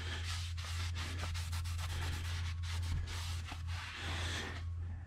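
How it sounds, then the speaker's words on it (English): A rag soaked in brake cleaner is rubbed over the brake rotor of a 2015 Honda Fit, making rhythmic close scrubbing and rubbing strokes over a steady low hum. "I'm gonna take my clean rag and the brake fluid cleaner. Just go over that one more time"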